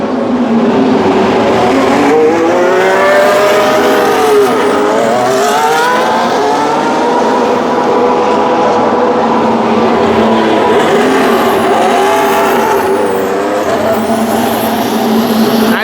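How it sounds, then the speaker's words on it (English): A Ferrari Formula 1 car runs at the Spanish Grand Prix, its loud, high-pitched engine whine rising and falling through gear changes and speed shifts for about sixteen seconds, dominating with no voices over it. "So we actually have Ferrari coming out now."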